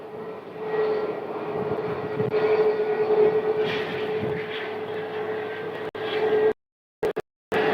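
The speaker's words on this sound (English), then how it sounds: "You can hear the engine starting on those A320neos." Airbus A320neo jet engines start up at Phoenix Sky Harbor airport, heard as a steady droning hum with a sustained tone that continues for several seconds at moderate distance before the sound cuts out abruptly.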